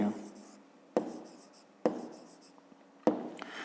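A pen scratches softly on paper during a fifth-grade math exercise, with short strokes and a sharper tap every second or so, faint and close in a quiet room.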